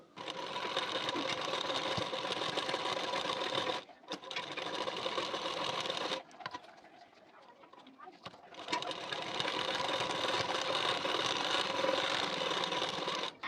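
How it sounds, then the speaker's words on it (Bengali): Electric sewing machine top-stitching twin rows along a belt seam on a blouse, running in steady loud stretches with brief pauses between bursts of stitching. "এখন সোজা সাইডে বেল্টের পাটের ঠিক কানা বরাবর করে দুটি চাপ সেলাই দিয়ে নেবো"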